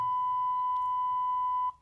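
A steady pure test tone from a Samsung phone's earpiece receiver, one continuous loud beep held for under two seconds before cutting off abruptly.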